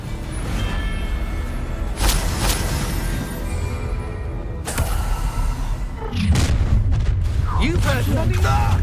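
Incendio fire spells cast in Hogwarts Legacy, heard as repeated booming blasts and whooshing bursts amid ongoing game sound, with spoken voices over the action.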